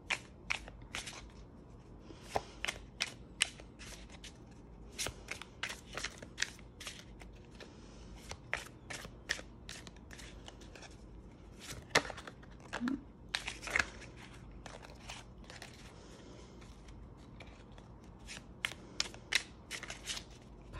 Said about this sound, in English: Let's get into shuffling the cards for you